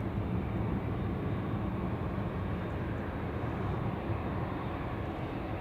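A Malta Air Ryanair jet departs Manchester Airport for Ibiza, a steady broadband engine roar heard at a distance, continuous and unchanging with no voices over it.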